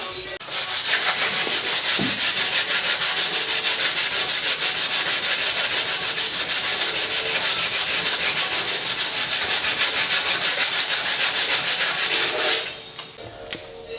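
Cutting sandpaper rubs in fast, even strokes across an LSA supercharger lid, a loud continuous rasping scrub that stops near the end.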